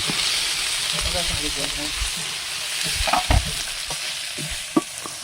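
Spice paste for a jackfruit and prawn curry fries in a pan, a continuous close hiss with stirring scrapes and occasional spatters and taps, no talk.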